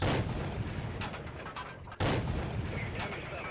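A tank's cannon fires heavy booming shots in World of Tanks, with one sharp blast cutting through the rumble and battle din while someone speaks.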